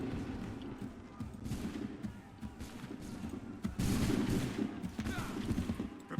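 Musket volleys from soldiers in Assassin's Creed III Remastered, a battlefield of gunfire with a loud burst near the middle, mixed with crowd noise and shouted commands.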